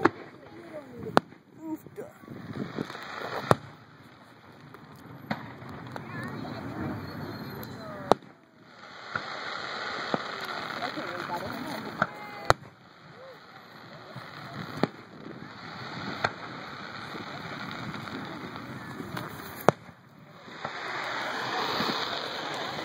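Fourth of July fireworks burst outdoors as sharp, scattered cracks and pops with hissing crackle between them, spaced several seconds apart, while people talk throughout.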